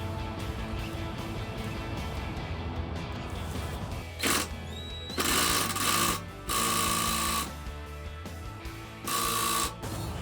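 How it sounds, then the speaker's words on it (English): Short bursts of ratcheting clicks come in three or four separate runs, close by, as a ratchet breaks loose a Toyota Tundra exhaust clamp bolt, between quieter stretches of background hum. "I'll have to break it loose first with the ratchet"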